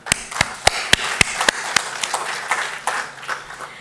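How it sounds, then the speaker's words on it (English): Scattered claps from a conference audience at a summit in Bengaluru ring out sharply and unevenly, a handful of loud, close hand strikes trailing off into sparser, softer claps. "So big round of applause for that."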